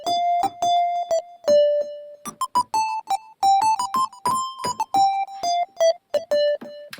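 A Microkorg synth is triggered from Elektron Tempest pads: short plucky tonal notes in a choppy melodic run with uneven rhythm and varying pitch, clear and close with no voices.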